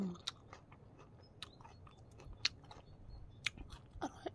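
Someone close by chews pickled apple among flowers, with crisp crunchy bites and wet chewing that come in irregular bursts over a quiet outdoor background.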